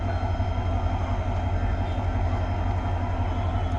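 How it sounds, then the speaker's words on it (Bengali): A train waits at Joydebpur railway station, bound for Dhaka's Kamalapur via the airport, giving off a steady loud low rumble and engine drone throughout, close by and without talk. "আমাদের পিছন দিয়ে একটি ট্রেন রয়েছে যে ট্রেনটি ঢাকা চলে যাবে কমলাপুরে বিমানবন্দর হয়ে"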